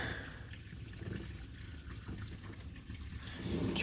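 A backed-up kitchen sink drain on a second floor empties, a low gurgling trickle of water steadily running away, fairly quiet and close, swelling slightly at the end.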